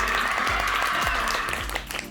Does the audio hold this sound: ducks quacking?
no